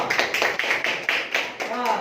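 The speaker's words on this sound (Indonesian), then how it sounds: "Tepuk tangan untuk kelompok 3." A classroom of students clapping for a group during a teaching session, a steady run of rapid hand claps under a faint voice near the end.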